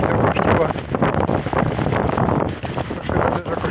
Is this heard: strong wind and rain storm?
yes